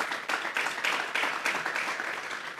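A church congregation at a Sunday service applauds together in a steady, mid-distance wash of clapping that keeps going without a break, in a reverberant hall.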